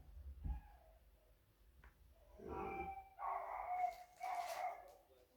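A dog barks several times in a short series at moderate distance, fairly faint, inside a home where someone is doing paper crafts.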